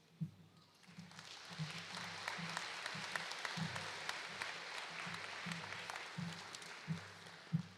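Sustained audience applause fills an arena at an 8th grade promotion ceremony, a dense steady wash of many hands clapping with a few louder nearby claps standing out, and no talking over it.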